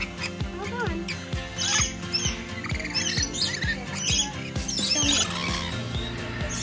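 Shrill parrot squawks and chatter ring out at close range at Parrot Mountain and Gardens in Pigeon Forge, layered over a steady rhythmic thumping music track with busy outdoor background noise.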